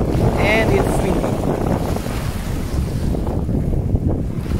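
Strong wind on a beach at Avşa Island buffets the microphone in a constant roar, with surf and open-air noise beneath and no clear talking.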